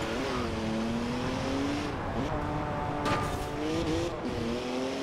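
BMW Z4 M with added power in Forza Horizon 4, its engine droning steadily with rising and falling revs, a gear change and brief tire squeal midway, close and continuous.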